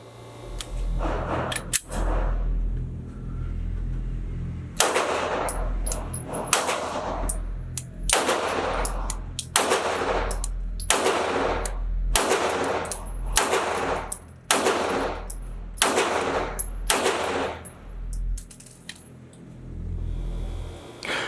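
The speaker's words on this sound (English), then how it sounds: "I put a magazine of hollow points through this just to make sure that they function" A Canik TP9SFx 9mm pistol fires a magazine of hollow-point rounds at a range, about ten loud sharp shots in a steady, evenly spaced string, each with a short ringing decay, after a couple of earlier isolated bangs.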